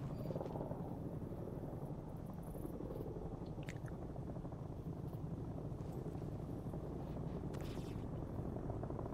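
Helicopter rotor drone from the Arma 3 video game, a steady, loud, continuous whir with rumbling low end that holds unchanged throughout, with no talk over it.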